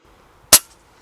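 A single sharp, close crack of a Storm Goliath Magnum bullpup PCP air rifle shot in 6.35 mm, brief and punchy, with a short fading tail in otherwise quiet surroundings.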